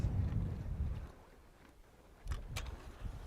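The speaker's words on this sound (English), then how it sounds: "It is windy," Wind gusting across an open outdoor site on Florida's Space Coast before an early-morning SpaceX Falcon 9 launch, with steady low rumbling buffeting that eases in the middle and then returns strongly.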